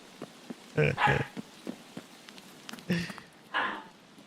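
A small dog growls and yaps in the background while play-biting another dog, giving a few short, rough bursts of snarling barks separated by quieter gaps.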